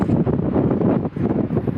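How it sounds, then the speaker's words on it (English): Strong wind blows outdoors in gusty surges, buffeting the microphone as a dense, close rumble with brief dips and no voices. "It's very windy."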